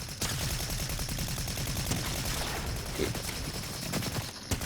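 Rapid SMG gunfire in a ranked online shooter match, dense sustained automatic bursts rattling close and loud throughout, with no pause in the firing.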